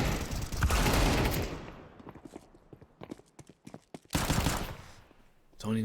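Pistol fire in a Counter-Strike 2 match: a dense burst of loud shots at the start, then scattered sharp cracks and pops, and another loud rush of action near the end.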